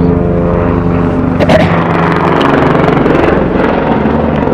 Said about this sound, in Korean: 헬리콥터, 작업 헬리콥터 소리가 요란합니다.